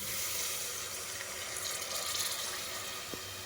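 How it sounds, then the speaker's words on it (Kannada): Faint, continuous watery rush of water being poured into a cooking pot for ghee rice, a soft steady hiss with a small clink near the end. "ನೀರು ಹಾಕೋತಾ ಇದ್ದೀನಿ"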